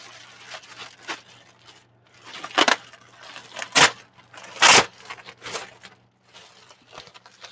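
Crinkling and tearing of a plastic bag while unboxing a Bambu Lab P1S 3D printer, several sharp loud rips among softer rustles, close and without speech.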